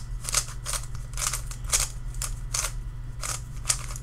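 A puzzle cube twisted by hand, a shape-mod style cube with wide centerpieces, giving a steady run of quick, close clicking turns at an even rhythm over a low background hum.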